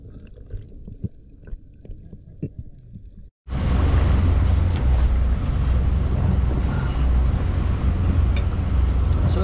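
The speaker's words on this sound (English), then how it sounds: "Wind picked up quite a bit, actually." Strong wind at sea buffets the microphone on a commercial spearfishing boat, starting abruptly after a few quiet seconds and then roaring steadily and loudly with the rumble of the boat and water underneath.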